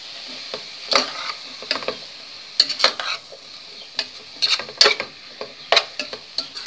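Tomato sautéed with pre-cooked tilapia fillet in a pan, a soft background sizzle broken by sharp, irregular spoon scrapes and taps against the pan, close and clear.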